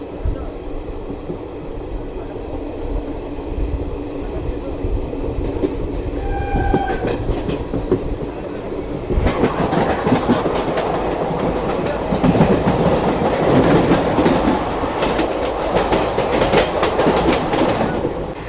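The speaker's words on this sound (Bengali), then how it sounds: "এই মুহূর্তে কিন্তু মেমু ট্রেন ঢুকছে, আমি দেখাচ্ছি আপনাদেরকে" A MEMU train rumbles into a station with steady clattering wheels, a brief horn sounding early on, the roar growing louder and fuller as it draws near.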